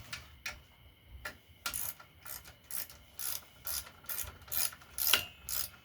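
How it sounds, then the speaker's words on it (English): A hand ratchet turns a 16 millimeter bolt on a Fox Body Mustang during alternator work, giving faint, close, evenly spaced clicking strokes in a quiet garage. "I'll check it with the ratchet. That's 16 millimeter."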